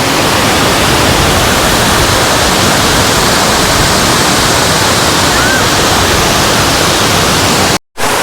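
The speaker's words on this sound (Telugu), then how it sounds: "ఇదంతా వాటర్ ఫాల్స్ చాలా బాగుంది." Waterfall water rushing at the Vanjangi hills viewpoint, a loud, steady broadband roar filling the whole clip, with a brief cut to silence near the end.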